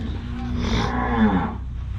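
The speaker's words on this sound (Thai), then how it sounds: "ชุดนี้วัววัวสุโขทัยครับ" Sukhothai cattle at a livestock market in Tak, Thailand, give a single loud, close moo lasting over a second, with faint market background and no talk over it.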